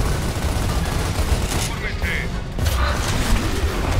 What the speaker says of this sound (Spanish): ¡Dispara el arma, soldado!